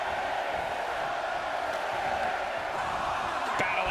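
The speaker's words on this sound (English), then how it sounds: "Listen to this crowd count the next one in." Steady crowd noise from a WWE 2K24 women's Royal Rumble match, a dense even roar of the in-game arena audience chanting along, with no clear voices standing out.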